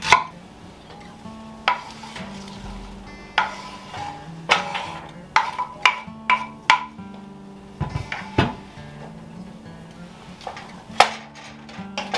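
A knife dices an onion on a cutting board for a Tex-Mex lasagna, giving a run of irregular, sharp chops and knocks with short pauses between bursts, close and moderately loud, with no talking.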